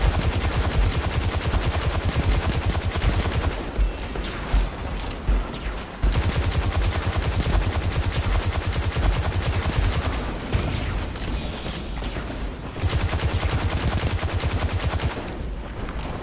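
Sustained, loud gunfire in Destiny 2: dense, continuous volleys of shots roll on almost without pause, broken by a few brief gaps, with heavy low-end thump under crackling reports and no talking.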